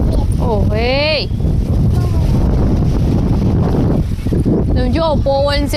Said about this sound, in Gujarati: જો પવન છે દુનિયાનો.